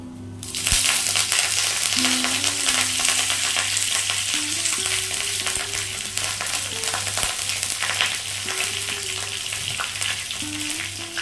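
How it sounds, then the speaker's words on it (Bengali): Panch phoron seeds and curry leaves hit hot oil in a pan, giving a loud, steady sizzle with crackles and spits, close up and continuous, with a faint low hum beneath. "তেল গরম হয়ে গেছে দিয়ে দেব পাঁচ ফোড়ন এখানে আমি এক চামচ পাঁচ ফোড়ন দিলাম"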